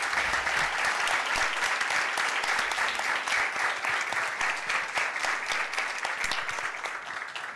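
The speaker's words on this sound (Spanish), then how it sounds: "con un fuerte aplauso a nuestros panelistas" Loud, sustained applause from a forum audience for the panelists, a dense steady clatter of many hands that tapers slightly toward the end.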